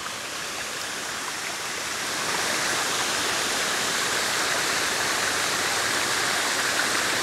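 Darimalli waterfall pours in a loud, steady broadband rush of falling water, heard close and continuous, swelling slightly after the first couple of seconds with no voices.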